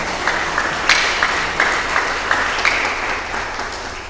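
Brief applause from an audience at an agriculture report event, a soft steady patter of clapping with a few sharper claps standing out, fairly even in level throughout.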